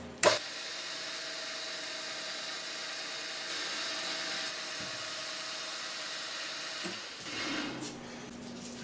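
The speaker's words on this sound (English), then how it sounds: "I pre-drilled 18 millimeters and then I reamed it to 20 millimeters" Machine tool reaming a pre-drilled 18 mm aluminum bore out to 20 mm with a reamer gives a steady, even mechanical hum and whir that holds for several seconds and shifts briefly near the end.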